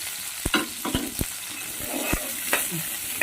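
Shallots, garlic and ginger frying in hot oil, a close, hissing sizzle punctuated by a few scattered clicks of a utensil against the pan, with no voices.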